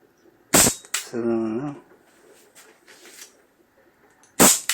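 ARES S&W M686 3.5-inch full-metal airsoft revolver fired double action: two sharp, close shots a few seconds apart, with faint mechanical clicks and a brief hum between them.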